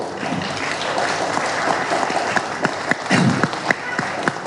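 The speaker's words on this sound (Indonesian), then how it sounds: "tepuk tangan dong" Dense, sustained applause from a party press conference audience fills the room, with scattered sharper claps standing out and brief voices mixed underneath.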